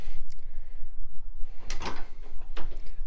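A wooden chicken coop's upper and lower doors open and shut, producing a few sharp knocks and rattling thuds close up over a low background hum.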